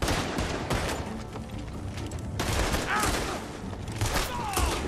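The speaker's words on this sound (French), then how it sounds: "La cadence de tir, en fait, elle est pas bonne vu qu'on a deux armes différentes maintenant" Two different guns fire in the Red Dead Redemption 2 game, making a rapid, irregular volley of sharp cracks and booms. The shots overlap and come close and loud, with brief game voices in between.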